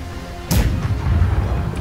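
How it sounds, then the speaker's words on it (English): A ship's cannon fires a single deep boom in the pirate naval game Blackwake, followed by a rumbling low tail and faint battle noise. "Get on starboard cannons."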